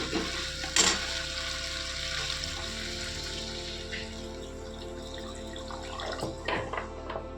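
Water poured into a pan of frying cumin-ginger spice masala gives a brief splash, followed by sizzling and bubbling with scattered clinks of cookware, close and moderately loud.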